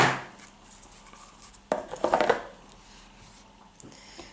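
Scissors snip through paper lace for a paper bow, a short, close cluster of crisp cutting sounds in a quiet room, with faint handling noise around it.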